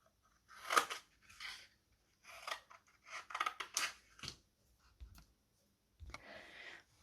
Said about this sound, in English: you can just take your scissors and go straight in